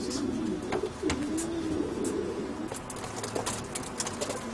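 Pigeons kept by a breeder coo nearby, soft low rolling calls repeating over a quiet background with faint scattered clicks and rustles.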